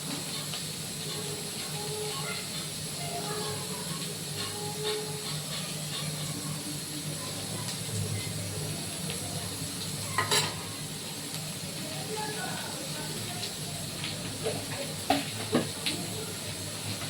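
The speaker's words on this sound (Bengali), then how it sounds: "আলুটা এরকম একটু লাল লাল করে ভেজে নেবো" Boiled potatoes fry in a pan, giving a steady, moderate sizzle and hiss throughout, with occasional clinks and stirring scrapes over the continuous crackle.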